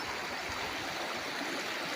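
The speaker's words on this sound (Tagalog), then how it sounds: "So ito yung katabing ilog hanggang doon" A river running beside a farm lot in Real, Quezon gives a steady, close rushing and gurgling of flowing water, continuous and alone without any voices.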